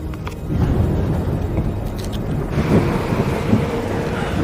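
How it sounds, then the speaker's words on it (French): A thunderstorm moving in, with steady rain and a low, continuous rumble of thunder filling the background, loud and unbroken throughout. "La tempête arrive."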